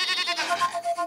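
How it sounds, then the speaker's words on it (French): A goat in a French animated cartoon lets out a single wavering, nasal bleat, close and fairly loud, with no voices over it. "Une chèvre?"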